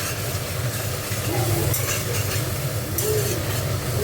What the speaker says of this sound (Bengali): মশলাটা একটু কষা হোক।